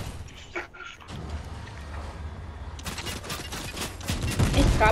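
Gunfire in a Fortnite squads Battle Royale match, a rapid stream of shots swelling louder toward the end over a muddy backdrop of game noise.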